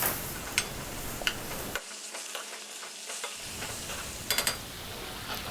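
A ladle pressing and stirring tomatoes frying in a pan for spicy chutney, with soft sizzling and scattered scraping taps and clicks, close and fairly quiet, briefly dropping out midway.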